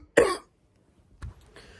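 A person with a slight cold gives one sharp, close cough followed by softer throat-clearing sounds, with quiet pauses between them.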